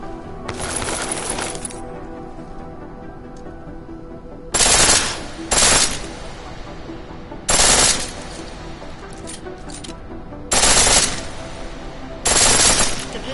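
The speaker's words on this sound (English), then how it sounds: "The pistol in full auto will take down targets fast, but it'll burn through your ammo." A pistol set to full auto in Deus Ex fires several short, sharp bright bursts, five or six separate volleys spaced a second or two apart, close and loud over a low steady background hum.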